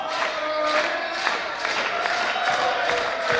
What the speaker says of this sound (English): Crowd clapping away to join him.